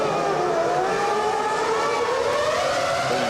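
Formula 1 cars of the 2001 Malaysian Grand Prix scream away from the race start, a dense, continuous high-pitched engine wail with rising pitch sweeps as several cars accelerate together, loud and steady throughout.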